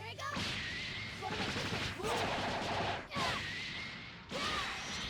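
Gotenks' Victory Cannon skill in Dragon Ball Xenoverse 2, a burst of rapid explosive blasts in four loud waves separated by brief dips, with whooshing energy sweeps and crashing impacts.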